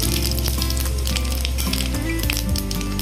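Cumin seeds crackle and sizzle in hot mustard oil with a dried red chilli and bay leaf, a steady dense frying hiss that runs loud and unbroken throughout.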